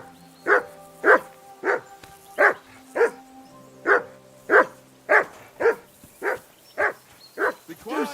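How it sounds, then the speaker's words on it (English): A dog in the medieval game Kingdom Come Deliverance 2 barks repeatedly, about a dozen sharp, evenly spaced woofs at close range, with no talk over them. "Do something with that mutt, Henry"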